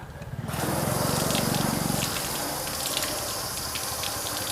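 Water gushes steadily onto a car panel coated with spray sealant in a flooding test, starting abruptly after a brief quiet moment and continuing as a loud, close, even splashing rush.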